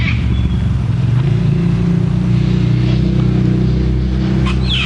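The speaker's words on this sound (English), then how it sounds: "Sorry about the passing traffic and so on, but there is a road coming along past here." Road traffic passing near a cockatoo nesting hollow in Australia, a loud, steady rumble of a nearby vehicle engine with no voices over it.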